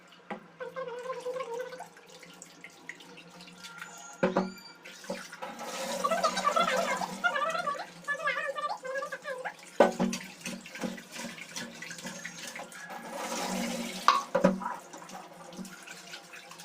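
Prawns washed by hand under running water, a steady splashing flow with sloshing bursts and clatter as the shellfish are rinsed for a prawn curry; no one speaks.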